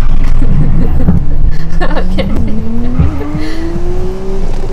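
A modified Nissan Skyline GTR R32 drifts with loud, sustained tire squeal over a rising engine note and excited voices, recorded close and intense throughout.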